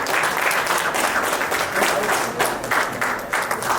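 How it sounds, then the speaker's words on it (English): A room of guests at a meet-and-greet event applauds Kiran Pasham, loud, dense clapping from many hands sustained evenly without a break. "Please give him a big round of applause."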